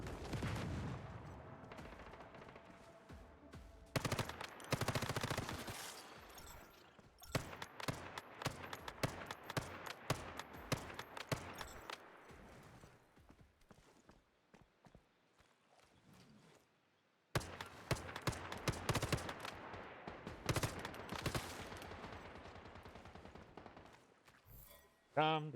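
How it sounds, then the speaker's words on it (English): Gunfire in the video game Once Human as zombies are shot: bursts of sharp shots and rapid volleys come and go over a continuous game soundscape, with a brief lull before the shooting resumes. "Shooting those guys, shooting the zombies."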